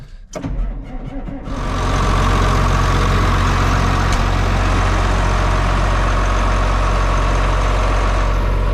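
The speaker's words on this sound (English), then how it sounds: "let this tractor fire it up and let it warm up" A John Deere 4250 tractor engine cranks and catches, then settles into a loud, steady, rumbling idle close by as it warms up.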